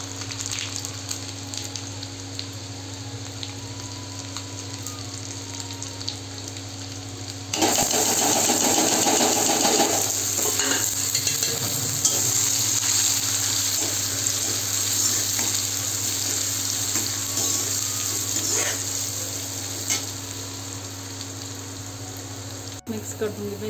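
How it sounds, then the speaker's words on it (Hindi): Hot oil crackles and sizzles loudly as cumin seeds are dropped into a pan with garlic and chili for tempering, the frying hiss continuing steadily over a low background hum. "अब लगाएंगे इसमें जीरे का तड़का"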